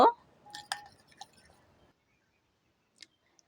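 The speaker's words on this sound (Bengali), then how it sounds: "আবার আমি চামিচের সাহায্যে খুব ভালোভাবে করে মাছের ডিমের সঙ্গে মিশিয়ে নিব" A spoon stirring fish roe with gram flour in a bowl makes a few soft squishes and a couple of sharp clinks near the start, then goes quiet except for one faint tap later.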